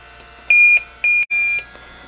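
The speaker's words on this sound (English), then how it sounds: "Again, you'll get the smart alarm and the audible alarm." A Yellow Jacket AccuProbe UV leak detector sounds its audible alarm, three crisp electronic beeps in quick succession, loud and clear over a quiet background.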